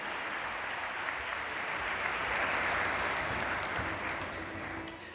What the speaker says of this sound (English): Let us all join our hands in a round of applause for all of our invited guests who have been present here this evening